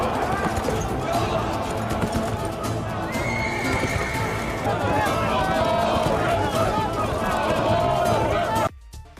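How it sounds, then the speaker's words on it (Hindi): Horses gallop and neigh in a historical drama cavalry charge: a dense, loud rumble of hooves with repeated whinnies, mixed with shouting voices, before it cuts off abruptly. "फिर अपने घोड़े दौड़ा देते हैं।"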